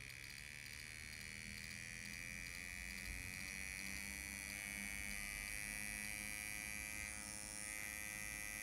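A steady, even electric hum comes from an FK Irons Spektra XION tattoo machine running at 5 volts, close and continuous throughout with no talking.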